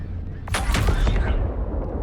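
C-788 ship guns in the Star Citizen video game unleash a loud, roaring burst of rapid fire that lasts under a second, then fades into a rumbling tail.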